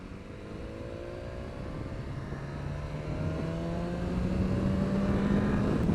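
A BMW S1000 motorcycle engine holds a high steady rev under wind noise. The faint whine rises slowly and grows a little louder as it climbs.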